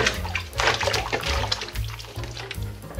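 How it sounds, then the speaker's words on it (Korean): Soil-covered fresh ginger is rinsed under a running kitchen tap, with a steady close splash of water and bursts of churning as the roots are rubbed and turned. "흐르는 물에 한 2번 정도 깨끗하게 씻어서 손질해 보겠습니다."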